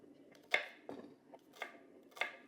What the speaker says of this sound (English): I'm just going to cut these into little cubes